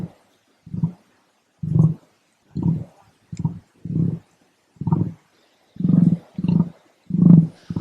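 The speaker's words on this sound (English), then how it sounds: "This is the sound of an emu." An emu's drumming call: a series of about ten deep, hollow booming pulses in an uneven rhythm, fairly close and prominent, with no talk over them.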